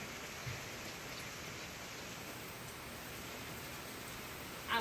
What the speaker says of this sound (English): it's raining a little bit too hard right